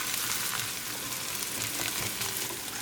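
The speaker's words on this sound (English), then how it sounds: "Cooking our onion for 4 minutes." Chopped onion frying in a pan on the stove, a steady dense sizzle with no pauses, close and fairly loud, alone without voices.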